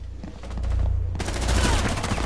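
Rapid bursts of gunfire in the video game Rainbow Six, dense automatic shots building to a loud close volley in the second half.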